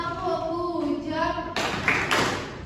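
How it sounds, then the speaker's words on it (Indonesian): Classroom students chant a group cheer together, then break into a burst of sharp, rhythmic claps for a peer-teaching group, voices and hand claps close and fairly loud. "Kita kasih tepuk ucap buat kelompok 2."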